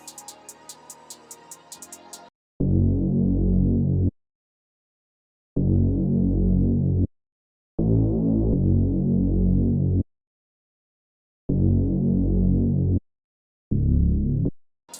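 Reese bass sample from the Producer Grind drum kit, a dark, thick, throbbing low bass played in several sustained loud notes with gaps between, after a brief bright melodic intro at the start.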